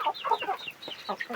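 Several Thai fighting cocks, mostly yellow-legged birds, give repeated short clucks close by at steady volume, calls overlapping in an uneven rhythm with no voices.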